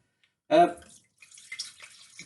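Sherry is poured while chilli sherry is being made, with a short sharp splash followed by softer trickling and dripping close by.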